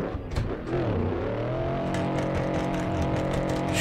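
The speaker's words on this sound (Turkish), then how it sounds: "Şu kesici sesi beni bitirdi ya" A BMW E36 engine in the Assetto Corsa racing game bouncing off the rev limiter while drifting on a snowy road, a steady loud buzzing drone with rising, sustained engine tones throughout.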